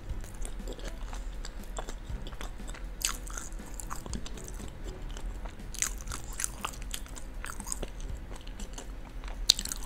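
Crunchy Dutch bitterballen, crisp outside and savoury inside, are bitten and chewed up close, giving repeated sharp crunches and wet chewing in an uneven rhythm over a quiet background.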